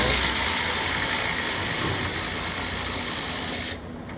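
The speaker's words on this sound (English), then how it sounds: "We're going to remove the two 8mm bolts that are holding the cooling fan in." A ratchet loosening 8mm bolts that hold the cooling fan on a 2014–2019 Ford Explorer 3.5, a dense continuous clicking whir up close that stops abruptly near the end.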